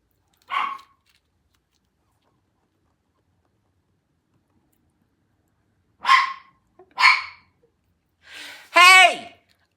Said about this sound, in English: Who let that dog in?